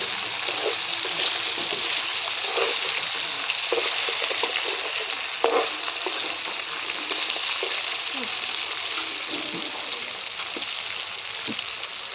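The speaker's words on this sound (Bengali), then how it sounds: "মাছগুলো, চালা মাছগুলো নুন হলুদ মাখিয়ে নিয়েছি, ভেজে নেব ভালো করে" Small chela fish coated in salt and turmeric fry in hot oil, a dense, steady, close sizzle with occasional spatula clicks and pops, continuing unbroken, with faint talk at moments.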